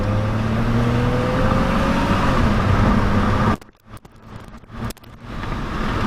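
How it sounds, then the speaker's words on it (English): A 2006 Saab 9-3 Aero engine drones and rises in pitch as the car accelerates in second gear with windows down, then drops away sharply into quieter road and wind noise. "I'll put the windows down too, so you guys can hear the engine."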